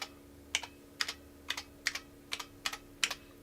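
Keys clack on the keyboard of an IBM PC 5150 computer, about seven evenly spaced double-click strokes over a low steady hum, crisp and fairly close, with no talk.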